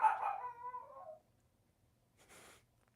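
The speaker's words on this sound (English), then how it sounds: "She's hiding in her kennel barking like she's gonna do something." A dog in its kennel gives a drawn-out whining, yowling cry that fades over about a second, followed by a quieter short rough huff a moment later, heard fairly close against otherwise near silence.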